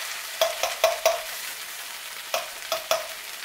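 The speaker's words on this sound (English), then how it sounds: "I'm just going to mix all this up." Thrive Life freeze-dried food sizzles in a pan during off-grid cooking and is mixed together. A utensil scrapes and taps the pan in uneven bursts over a soft, steady frying hiss.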